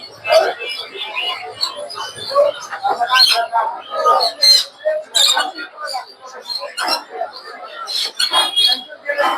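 Cockatiels and lories at a bird market make a busy stream of sharp chirps and squeaky calls. The calls are dense and overlapping, with people talking in the background.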